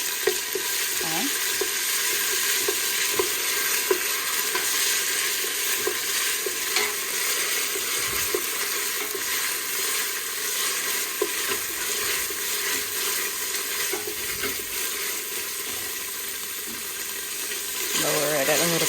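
Red curry and Penang curry paste frying in a pan on a very strong stove, a steady loud sizzle with intermittent scraping of stirring throughout, and a brief burst of louder spattering near the end.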